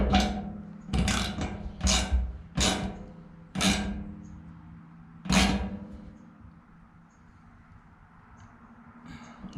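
Ratcheting wrench tightening a fitting on the in-tank fuel pump of a 1997 Ford F350 with a 7.5-liter 460 EFI engine; about six short, loud bursts of clicking in quick succession, then quiet.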